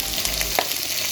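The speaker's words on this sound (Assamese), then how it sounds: "ভালকৈ ভাজা হ'ল যিহেতু এতিয়া মই ৰঙালাও আৰু ইস্কছখিনি মই দি দিছোঁ।" Pieces of ash gourd and chayote fry in a pan, giving a continuous close, crackling sizzle with a brief stir in the middle.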